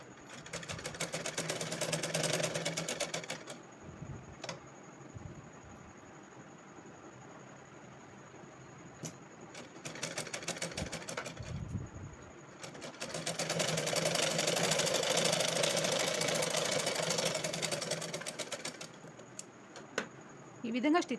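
A sewing machine stitches blouse sleeve lining in three separate runs of rapid needle clatter, the last one longest, with quieter pauses of fabric handling between them.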